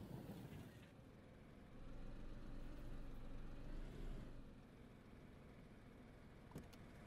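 A steady car engine drone in the video game DayZ hums at low volume, swelling louder for a couple of seconds before settling back to an even idle.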